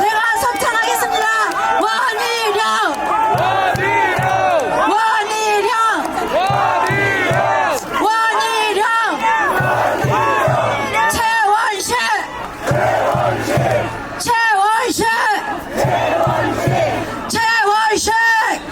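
Large crowd at a Korean election campaign rally for candidate Won Hee-ryong in Gyeyang, chanting and cheering in loud, dense, continuous waves with shouted voices throughout.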